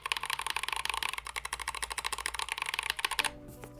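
Rapid typing on a custom mechanical keyboard, a dense run of crisp, evenly paced keystrokes close to the mic that stops abruptly near the end, leaving a faint tonal hum.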